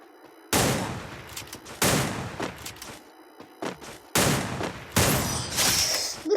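Gunfire in a shooting video game, including headshots: sharp bursts of shots in several separate volleys, loud and close, with short pauses between them and no talking.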